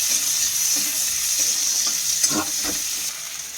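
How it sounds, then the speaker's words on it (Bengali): Onions frying in hot oil give a steady, close sizzle, with a few scraping stirs of a spatula near the end and no voices. "তেলটা ভাজা হবে, তার জন্য পেঁয়াজ তেলে দেওয়া হলো, ভাজা ভাজা করছে।"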